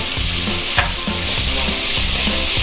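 Chicken and capsicum with pepper being stirred in a frying pan for cheesy chicken crepes: steady loud sizzling with rhythmic scraping strokes of a spatula roughly every half second.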